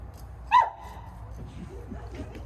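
A voice gives a single short, sharp barking call imitating a frog, over a low background hum.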